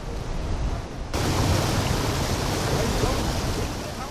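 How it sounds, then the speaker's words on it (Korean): Rough sea water roars and churns through the Uldolmok strait off Jindo, a dense, continuous rushing wash with wind noise that grows louder after the first second. "바닷물이 거칠게 울며 돌아 울돌이라 불리는 이곳"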